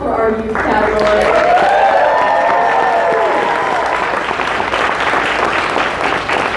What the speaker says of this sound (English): Let's have one final applause for our youth category.